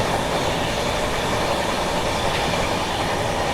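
A North East Express train roars past close by, a steady loud rumble and wheel clatter that fills the whole stretch without a break.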